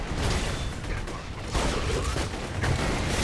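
Robots fire guns in the video game Borderlands 2, a dense, continuous barrage of crackling shots and rumbling booms that stays loud throughout.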